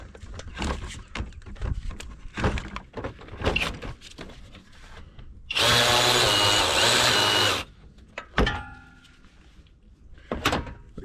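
A power tool spins a 14 mm socket off the idler pulley bolt on a 2005 Jeep TJ 4.0, one loud two-second whir between scattered clanks and handling noises of the work.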